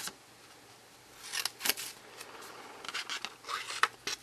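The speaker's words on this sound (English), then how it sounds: "I'm just going to use my paper snips" Paper snips cut out a stamped paper image for a handmade birthday card, giving a few short crisp snips spread over several seconds, close and quiet with no talk.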